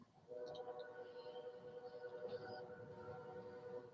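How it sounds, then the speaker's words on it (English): A Kansas City Southern Railroad train passes at a distance, a steady droning rumble with sustained horn-like tones that starts abruptly and holds through to the end. "Here comes a Kansas City Southern Railroad train."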